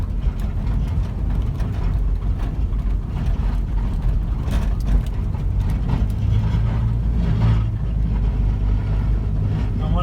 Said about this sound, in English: we can just tractor over any little snow drifts